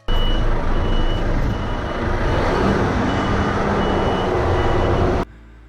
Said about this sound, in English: if he's turning around, you bet get those beepers on